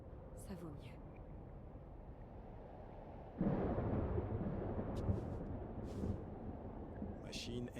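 Psychic storm thunder in the video game Life is Strange, a steady dark rumble that surges suddenly louder partway through and keeps roaring, with faint speech in the background.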